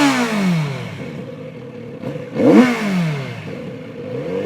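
A 2019 Kawasaki Z900RS motorcycle with stock exhaust revs up sharply once and falls back, a throaty rising and falling growl close by, with idling between.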